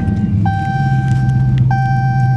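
A stock Dodge Challenger exhaust idles with a steady low rumble, while two bright electronic chime tones sound above it, each a held note; no one speaks.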